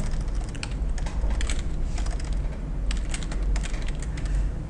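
Computer keyboard typing while writing an SQL query, a steady stream of close, crisp key clicks in uneven bursts over a low background hum, with no talking.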